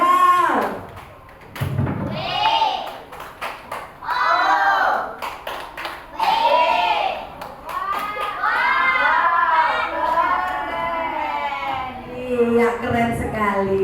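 Primary schoolchildren in a classroom perform a rhythmic group clap routine, with a burst of claps and thumps mixed into loud chanting and shouted voices that dominate throughout.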